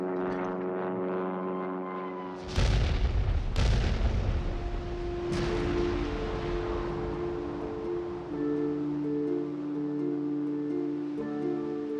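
Explosions of 2,000-pound aerial bombs striking a captured German battleship at sea, heard as several heavy booms and blasts over a steady engine drone of aircraft overhead, with rumbling aftermath; no talking.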